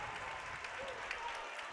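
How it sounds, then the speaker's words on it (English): Crowd at a varsity boys basketball game clapping steadily, a dense wash of applause filling the gym with a voice faintly underneath. "everybody's clapping"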